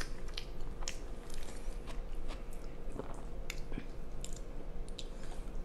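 A person chews meatloaf up close, a faint, steady run of wet chewing and soft crunchy bites.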